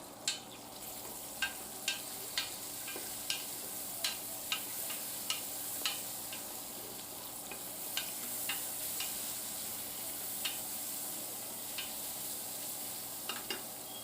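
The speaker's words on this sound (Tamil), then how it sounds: "இப்போ இதை நல்லா வதக்கி விட்டுக்கோங்க." Onions and tomatoes with spices sizzle steadily in oil and ghee for chicken dum biryani, a constant frying hiss broken by regular sharp ticks of a stirring spoon against the pan.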